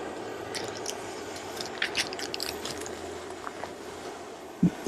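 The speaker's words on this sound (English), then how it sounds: "take this cup of macaroni, just pour it right into your pot" Dry macaroni pours into a camping pot, giving a soft, brief rattling and scattering of small hard pieces at close range, ending with a quick knock.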